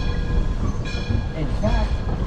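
A train runs on railroad track, a steady, close rumbling roll with faint tonal whines above it, continuing throughout under a voice.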